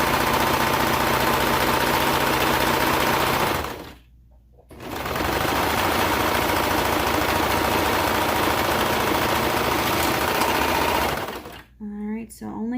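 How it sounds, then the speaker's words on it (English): A serger sewing machine runs loud and fast while overlocking a fabric edge on children's pants, with a continuous whirring drone. It pauses briefly, resumes, then stops before a person starts speaking at the end. "And then just serge off the edge, all the while making sure that this seam, this tail that you have is in the middle."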